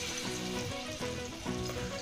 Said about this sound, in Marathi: आता हे सर्व पीस एक एक करून मी या तेलामध्ये ठेवून तळून घेत आहे